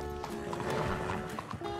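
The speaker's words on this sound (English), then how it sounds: "Oh, easy, horse." A horse stands close by with hooves clip-clopping and shifting over a busy background that includes brief harmonic vocal sounds, all at a steady moderate level with no clear talk.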